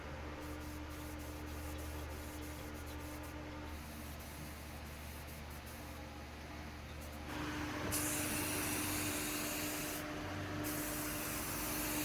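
Spray painting Nissan 240SX car body parts in color, a continuous close hiss of the spray gun that grows louder and broader partway through, with brief pauses.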